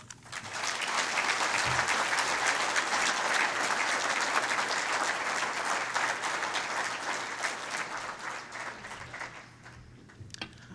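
Sustained applause from a crowd at a student ambassador event for a technical college system, a broad steady roar of clapping that fades toward the end.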